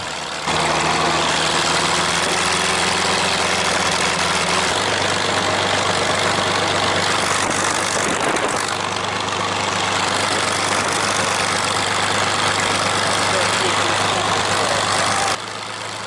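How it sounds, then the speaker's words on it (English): A large Allison V-1710 V-12 piston engine on a P-40N Kittyhawk idles loudly and steadily nearby, a continuous deep rumble with a rough, throbbing texture throughout. "Now that the Allison V-12 has roared into life"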